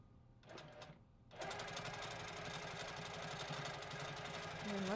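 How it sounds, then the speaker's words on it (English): A sewing machine stitches quilting lines on a quilt, running in a steady, fast, close whir after a couple of brief starts, continuing unbroken and loud to the end. "maybe I want to overstitch around this outer edge"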